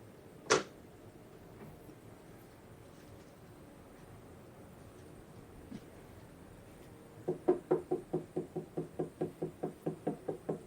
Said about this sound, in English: Someone is knocking at the door.